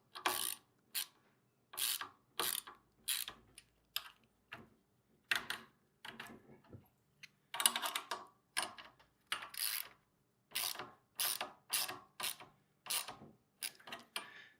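A ratchet wrench tightens a bolt on a gas plate compactor in a long run of quick clicking bursts, each a short rattle of pawl clicks separated by brief pauses, close and clear with no voices.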